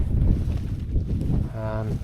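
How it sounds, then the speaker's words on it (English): Wind gusting up to about 10 miles an hour buffets the microphone at a wild camp in the Brecon Beacons, a steady low rumble with a brief hum-like tone near the end. "It is gusting at the moment, up to about 10 miles an hour."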